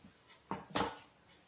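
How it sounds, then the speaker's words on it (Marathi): A metal container lid handled on a kitchen counter while making puris, giving two quick clattering knocks, the second louder with a brief ring, close up and alone. "येथे आपण डब्याचं झाकण घेतलेलं आहे।"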